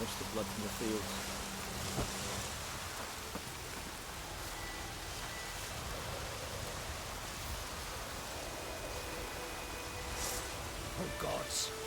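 Steady rain falls in The Witcher 3, a dense broadband hiss of drops that holds evenly throughout, with faint scattered taps and indistinct voices murmuring in the background.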